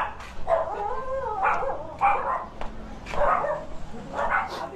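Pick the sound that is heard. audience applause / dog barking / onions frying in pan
dog barking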